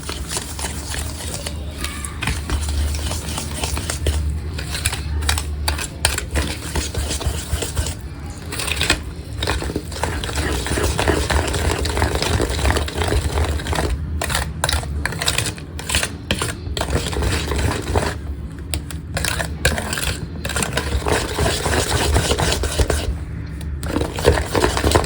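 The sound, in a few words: mixing Unibic biscuit cake ingredients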